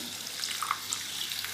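Water pours into a pot of spicy vegetable curry as it cooks, a short, soft splashing trickle with light bubbling, close and fairly quiet with no talk.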